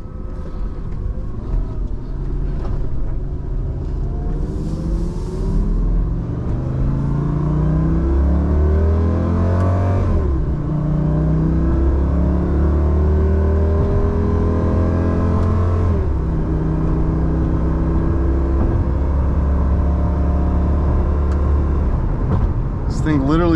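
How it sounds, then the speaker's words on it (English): A 2006 Lamborghini Gallardo with a V10 engine drones loudly and steadily, with its pitch falling and rising through several downshifts and blips, close-up from inside the car. "Check out these downshifts, ready? Beautiful."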